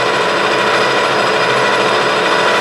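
A Clausing 6900 series metal lathe turns at 870 RPM, cutting with a small-radius DMMG insert. It gives a steady, loud, dense mechanical whir and hiss that runs unchanged through the whole stretch, with no talk over it.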